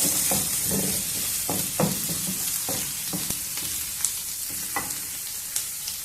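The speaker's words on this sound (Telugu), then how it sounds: "పచ్చిమిర్చి వేసాం ముక్కల్ని కొంచెం ఫ్రై చేద్దాము" Green chillies and onion pieces frying in a pan for a raw banana fry, a steady close sizzle broken by several sharp spatula scrapes and clinks.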